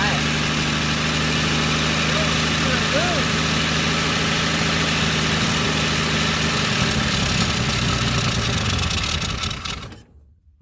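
A Plymouth Duster engine idles after sitting two decades with the hood up, a loud steady rumble with a constant mechanical drone that holds for about ten seconds before cutting off abruptly.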